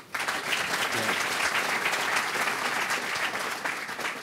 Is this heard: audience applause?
yes